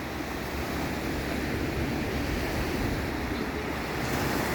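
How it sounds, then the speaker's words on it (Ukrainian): Sea waves on the beach at Cervia, Italy, a continuous close rush of surf mixed with steady wind noise on the microphone, no voices. "Трохи волн звісно, такі серйозні."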